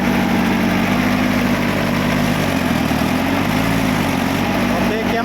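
A Ford 6600 tractor engine running in gear gives a steady, loud low drone that dips briefly in the middle as the gear changes, while someone talks over it.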